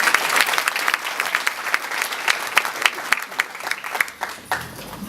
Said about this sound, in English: What about a round of applause for them as well?